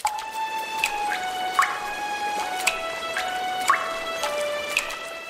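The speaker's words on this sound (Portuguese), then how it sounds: "Ah, isso sim é água!" Water drips one drop at a time in an irregular slow rhythm, each drop a bright plinking note ringing over a soft trickling background, close and clear.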